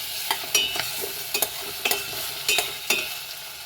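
Meat frying in a pan with a steady hiss of sizzling, broken by about a dozen sharp scraping and stirring strokes at irregular intervals. The sounds are close and moderately loud, and no one speaks.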